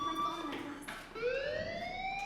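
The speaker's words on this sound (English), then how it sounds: "Hey, do you hear that fire alarm?" A school fire alarm rings in the video game Life Is Strange, a steady electronic tone with rising harmonics that shifts pitch partway through, running continuously and fairly loud throughout.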